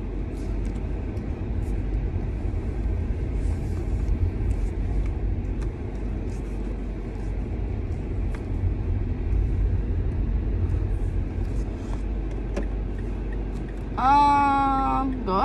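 Steady low road rumble from inside a moving car, continuous engine and tyre noise with a faint voice under it, then a brief tonal sweep near the end.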